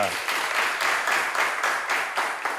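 Applause from a studio audience on a French game show after a contestant, a medical student, is introduced, heard as rhythmic, pulsing bursts of clapping that rise and fall several times.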